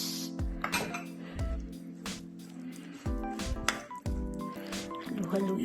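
A spoon stirs wet cake batter in a mixing bowl for a polka dot cake, producing soft squishy sloshes and occasional clinks against the bowl, under someone's voice.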